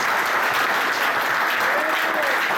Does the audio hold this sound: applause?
yes